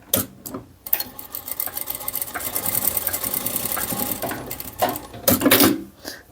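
A sewing machine runs a straight seam on knit fabric for a stretch of several seconds, its fast mechanical chatter steady and close, with brief pauses and handling knocks at the start and end.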